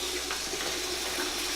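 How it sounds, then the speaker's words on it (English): Water runs steadily from a tap into a sink, a constant close hiss and splash with no pauses. "And then gotta turn the water off because it'll"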